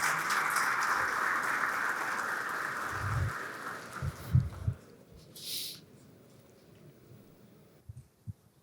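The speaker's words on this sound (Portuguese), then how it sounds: "Uma salva de palmas, gente, para essa galera aqui." A security-industry conference audience claps for a panel, with steady applause for several seconds that fades away, followed by scattered knocks and handling sounds in a quieter room.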